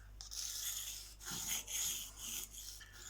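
Para 3 knife in M390 steel drawn across a Venev bonded diamond stone, giving close, steady abrasive rasps in several back-and-forth strokes with short pauses, no talking over them.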